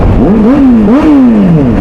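A motorcycle engine revving up close during a road trip, a loud rising and falling whine in two quick surges, alone without talk.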